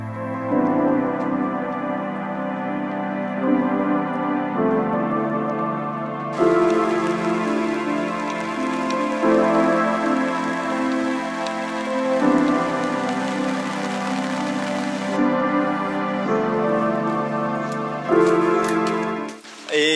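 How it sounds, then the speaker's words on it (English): Rain pouring steadily in front of a hillside church in Sandakan, a dense hiss of drops spattering nearby surfaces for the whole stretch, with a distant low rumble and no talking. "It's raining at the moment."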